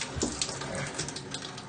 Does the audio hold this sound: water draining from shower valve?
yes